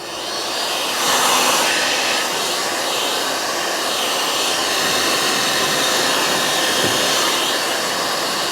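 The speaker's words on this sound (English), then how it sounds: "And then we'll warm that one up with a heat gun as well." A heat gun warms a body panel on a salvaged, crash-damaged 2011 Fiat 500 Lounge, giving a continuous close airy blowing roar that swells slightly and holds steady, with no speech.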